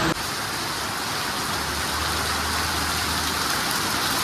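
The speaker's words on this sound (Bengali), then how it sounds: "কি বৃষ্টি, কি বৃষ্টি!" Heavy rain pours down in a dense, unbroken wash of noise, steady and fairly loud throughout, with a faint low hum underneath and no voices.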